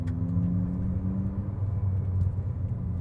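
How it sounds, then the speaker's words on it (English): Synthetic engine sound from a 2024 Abarth 500e electric hatchback: a steady, close, low droning hum with sustained tonal layers and a faint whine, heard alone without voices. "Almost sounds like turbo whine as well."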